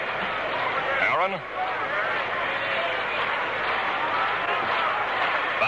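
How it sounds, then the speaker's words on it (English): Steady roar of a large stadium crowd at Game 7 of the 1958 World Series between New York and Milwaukee, a continuous dense murmur with a brief swell near the start, running beneath a radio announcer's play-by-play. "You can hear the crowd in the background."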